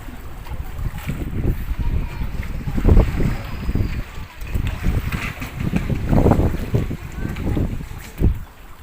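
A boat rides rough, choppy Philippine sea water while crossing toward a larger boat, with steady wind rumbling across the microphone and repeated low thumps and splashes of hull against waves.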